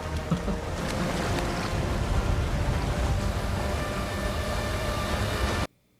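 A waterfall in a Star Wars: The Bad Batch episode roars as a loud, continuous broadband rush that cuts off abruptly near the end.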